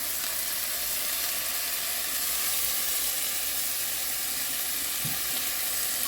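Washed rice sizzling in hot sesame seed oil for Hainanese chicken rice, a dense continuous hiss filling the whole stretch, close and even, with one faint knock near the end.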